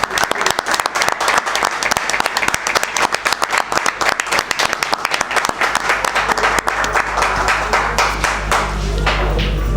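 An audience at a political event breaks into applause, starting as distinct sharp claps and thickening into a dense, sustained round of clapping that swells toward the end.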